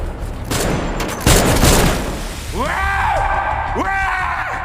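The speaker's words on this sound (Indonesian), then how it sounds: "Pak Kepala Polisi justru memanfaatkan hal itu untuk menembak mereka semua" Gunfire in a film scene as a police chief shoots a group of men: a couple of loud, rough blasts early on, followed by shouting voices.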